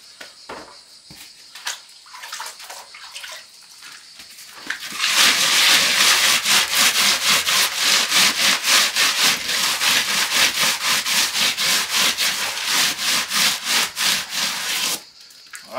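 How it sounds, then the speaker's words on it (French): A polystyrene float rubs in fast back-and-forth strokes over wet render on a garden shed wall, a close, loud rasping scrape that settles into a steady rhythm after a few quieter scuffs at the start. "il faut une frottasse polystyrène et un seau d'eau, bien sûr."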